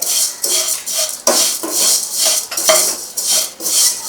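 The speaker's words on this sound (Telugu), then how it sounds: "ఇప్పుడు ఇవి ఫ్రై చేసుకోవాలి ఆల్రెడీ సేమియాలు డ్రై చేసి కూడా వస్తున్నాయి కాకపోతే చేసినా మనం కొంచెం లైట్గా వేపుకోవాలి" Vermicelli is stir-fried in a pan, with a spoon scraping and tapping against the metal in a repeated rhythmic stirring, close and fairly loud, with faint sizzling underneath.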